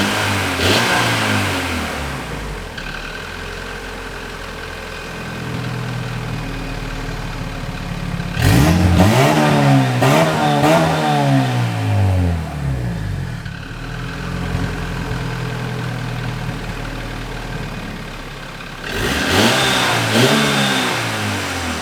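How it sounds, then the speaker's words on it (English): A turbocharged Honda Civic EF engine revs with its exhaust cutout open, several loud close throttle blips rising and falling over a rough idle, each rev climbing sharply before dropping back. "we'll give you guys a few revs of each"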